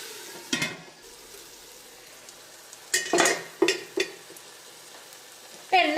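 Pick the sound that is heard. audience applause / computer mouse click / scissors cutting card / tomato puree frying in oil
tomato puree frying in oil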